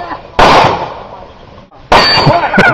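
Two sharp metallic clangs ring out as bullets strike steel shooting targets at an outdoor gun event, each hit loud and close with a short ringing decay.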